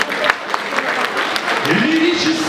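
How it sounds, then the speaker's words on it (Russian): Audience applause fills a concert hall at an anniversary celebration for an enterprise in Kingisepp, a dense, steady clatter of many hands close by with a voice rising over it near the end. "Здравствуйте, аплодисменты."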